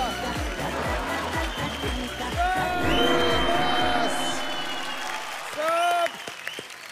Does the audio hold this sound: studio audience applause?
yes